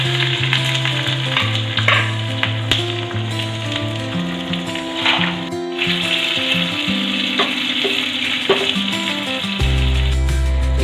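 Curry leaves and chopped onion sizzle loudly as a tempering in a hot pan, a steady close frying crackle with stirring scrapes and faint tonal hum throughout, no voices.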